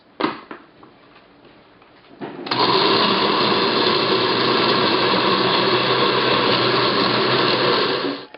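A blender chops tomatoes and a Spanish onion for gazpacho, starting with a few soft knocks before the motor kicks in at a loud, steady whir that runs without a break to the end.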